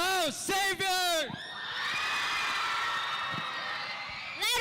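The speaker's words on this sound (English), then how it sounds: "Let's give them some time to cheer their cheer." Students at a school festival opening cheer loudly for their house, a sustained crowd roar and whoops following shouted calls from a host over a microphone.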